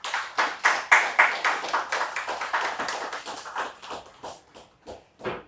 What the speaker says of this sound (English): So let's just have a round of applause for Israel.